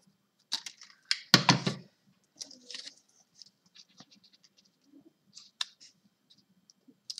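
Scissors cutting a tulip shape out of paper for a craft, with a loud burst of snipping and rustling near the start, then sparse soft clicks and small cuts.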